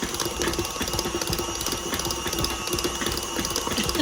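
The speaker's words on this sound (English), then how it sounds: "This mixer is about to jump off the counter." An electric stand mixer kneads yeast roll dough, giving a loud, steady mechanical grinding and rattling as it strains against the stiff dough, close and continuous with no talking.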